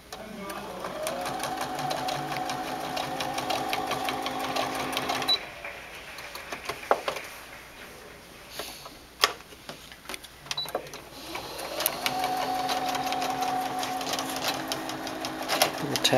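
A sewing machine stitches a cowboy boot Christmas sock in steady whirring runs, stopping in the middle while handling noises and clicks fill a quieter pause before stitching resumes.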